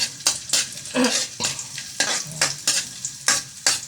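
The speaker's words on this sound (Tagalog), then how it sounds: "Igisa ang luya, bawang, sibuyas." Ginger sautés in a hot pan, its steady sizzle broken by a quick, regular series of close stirring strokes and scrapes of the utensil against the pan.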